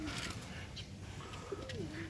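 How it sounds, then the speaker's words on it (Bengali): Domestic pigeons, including a red beauty and white roller, cooing softly in a loft during rain, with low murmuring coos and a faint gurgling call near the end over steady background noise. "এই যে আমাদের কিছু কবুতর ওমে আছে।"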